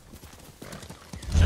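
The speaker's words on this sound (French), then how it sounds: "Oh là là là là, le cheval, tu m'as fait peur." Horse hooves clip-clop in a steady rhythm in Ghost of Tsushima, building to a loud, close whinny at the end.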